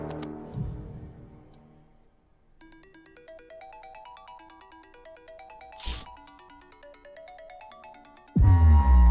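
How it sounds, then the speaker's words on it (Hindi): A melodic electronic phone ringtone plays steadily for several seconds, briefly interrupted by a short burst of noise, then a loud sudden sound at the end. "तुम्हारे नंबर से मुझे कॉल आ रहा है।"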